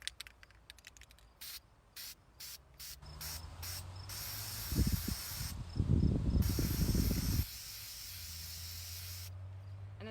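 Bursts of hissing spray from a can of yellow spray paint, short taps at first and then longer continuous sprays, close by and fairly loud.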